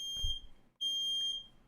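A smoke detector gives a shrill electronic alarm tone, sounding twice with a short gap, the second sustained, set against a quiet room with a low thump at the start.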